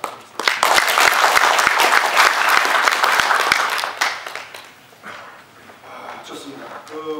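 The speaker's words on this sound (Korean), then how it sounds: "우리 한번 다시 다 같이 뜨거운 환영의 박수" Warm round of applause from a policy forum audience welcoming a speaker, dense and steady for about four seconds before fading, with a dog yipping and a voice speaking as the clapping dies away.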